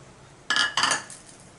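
A spoon clinks twice against a metal pan of milk and sugar being stirred, two quick bright scraping clinks close by, then quiet.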